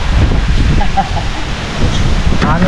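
Blustery wind buffets the microphone in a continuous low roar, loud and close, with faint voices mixed in.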